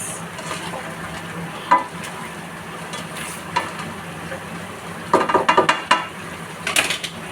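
A spoon scrapes and clinks against a pot in short bursts over a constant background hiss, with a cluster of quick stirring strokes near the end.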